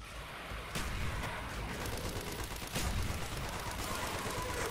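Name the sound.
gunfire and grenades in Call of Duty zombies video game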